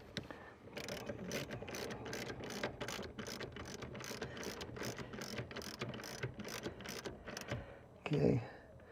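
A socket ratchet tightens a bolt on a 2021 Toyota Tacoma seat during a leather seat installation, with rapid repeated clicking strokes, close and fairly quiet, ending in a short louder clunk.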